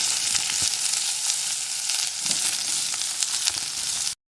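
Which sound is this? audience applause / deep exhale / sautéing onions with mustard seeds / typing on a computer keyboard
sautéing onions with mustard seeds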